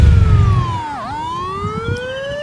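An ambulance siren wails loud and close, sweeping down in pitch and then back up in a single continuous cycle over steady traffic rumble.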